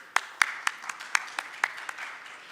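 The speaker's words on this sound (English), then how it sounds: "So I just want one round of applause to all the doctors here." Scattered claps from an audience at a Doctor's Day celebration honouring doctors, a handful of sharp separate hand claps spaced irregularly, thinning out after a few strong opening claps rather than building into full applause.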